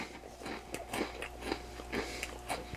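Close, quiet crunching and chewing of Turkey Creek Blazing Hot crunchy cheese snacks in steady bites about every half second, with no talking.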